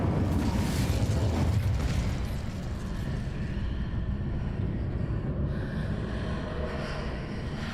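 Incendio fire spell cast in Hogwarts Legacy, a loud whooshing burst of flame with a rumbling roar that fades into a lingering crackling rush, no voices.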